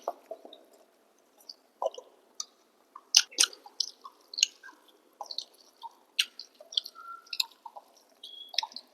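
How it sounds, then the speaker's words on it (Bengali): Close chewing of lentil fritters (pea-dal bora) at a home meal, with soft wet squishy bites and small clicks coming in irregular bursts and pauses, fairly quiet and with no talking. "বড়াগুলো খেতে খেতে পেট ভরে যাচ্ছে"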